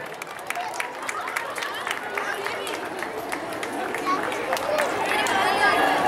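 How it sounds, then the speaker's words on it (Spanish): Applause and crowd chatter at a children's day celebration with costumed kids presented on stage, a steady dense clapping mixed with murmuring voices that swells slightly toward the end. "Fuerte el aplauso, por favor."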